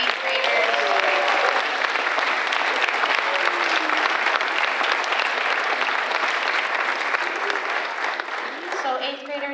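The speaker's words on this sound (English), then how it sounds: "One more round of applause for those amazing 8th graders" A large audience applauds eighth graders at a school culminating ceremony, with a full, steady roar of clapping and some chatter mixed in, easing slightly as a voice begins at the end.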